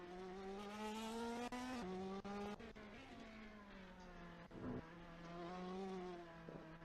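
Ferrari Challenge race cars from the 2018 European Trofeo Pirelli round at Spa-Francorchamps scream past at high revs, engine notes wavering steadily with brief gear-change dips and a faint tire squeal, loud and continuous without talk.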